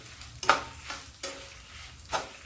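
Garlic cloves fry in a hot pan for a Telugu chutney made with coriander and amaranth stems, a steady sizzle broken by a few sharp stirring scrapes, close and with no talk.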